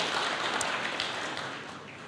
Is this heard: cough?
no